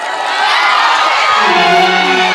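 A crowd at a comedy performance erupts in loud, continuous cheering and shouting, with whoops and bright voices rising together over a dense roar, steady from start to finish.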